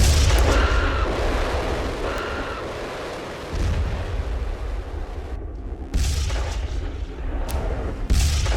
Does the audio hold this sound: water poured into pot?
no